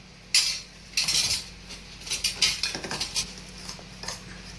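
A spoon clinks and scrapes in a bowl while mixing karanji filling for a Gudi Padwa offering, with bursts of close metallic stirring and tapping and short quiet gaps between them.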